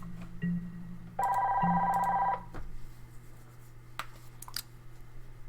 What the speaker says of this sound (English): Apologize for the phone ringing there